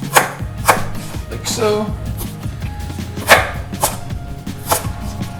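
Knife chopping onion on a cutting board for Asian glazed chicken kebabs, a series of sharp, close thuds in irregular bursts with a brief spoken remark.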